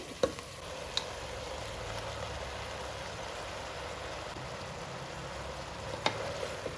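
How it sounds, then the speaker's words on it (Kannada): Bamboo shoots fry in oil for a bamboo shoot gojju, giving a steady, soft sizzle throughout, broken by a few sharp clicks from a stirring utensil near the start and end. "ಕಳಲೆ ಕೂಡ ಚೆನ್ನಾಗಿ ಎಣ್ಣೆ ಫ್ರೈ ಮಾಡ್ಕೊಳ್ಬೇಕು"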